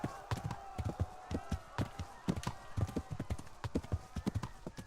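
Horse hooves clip-clop steadily in Kingdom Come: Deliverance, a quick irregular run of close, distinct knocks with faint game ambience beneath.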